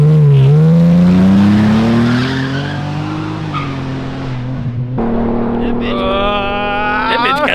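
A boosted Mustang GT and a Cadillac ATS-V street racing in Chicago: loud engine roar with rising revs and shrill tire squeal as the cars launch and skid, shifting pitch midway, with voices faintly underneath.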